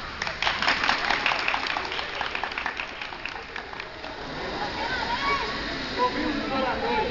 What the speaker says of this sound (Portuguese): Aplausos para ela.